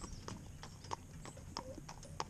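Hooves of Candy, a cob horse pulling a carriage on a morning drive, clip-clop in a steady even rhythm, sharp and fairly close over a low rumble of wheels.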